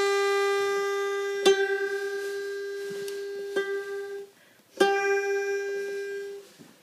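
A single ukulele string is plucked repeatedly during tuning, a sustained pitched note struck about three times with a clean decay between plucks, close and clear with no talking.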